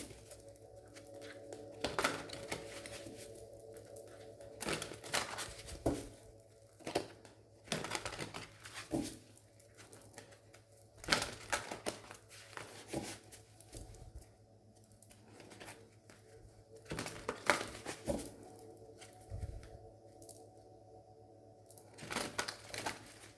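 Tarot cards shuffled by hand, with bursts of riffling and crisp card snaps that come in irregular clusters over a faint steady hum, close and fairly quiet.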